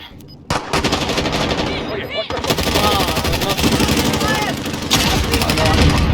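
Sustained automatic gunfire in the video game Warzone Rebirth, dense and loud, with rapid rattling bursts over a busy game soundscape. Game voice lines are heard over the shooting.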